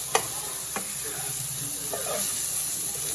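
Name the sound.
mutton burger patties frying, being flipped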